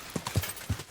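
Horse hooves clip-clop in Kingdom Come Deliverance 2 video game, three or four distinct, fairly close hoof strikes at an uneven walking rhythm with no talk over them.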